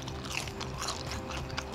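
Someone bites into a crunchy roast potato, giving a sharp crisp crunch followed by a few quieter chewing crackles, close and alone with no talking.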